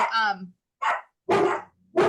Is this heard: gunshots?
no